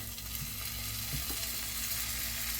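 Bacon sizzles and crackles steadily in a preheated skillet, a dense continuous frying hiss at moderate level with no voices.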